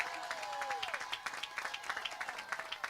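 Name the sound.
audience applause at credit union grand opening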